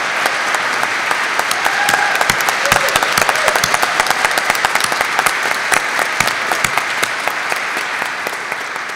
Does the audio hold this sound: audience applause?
yes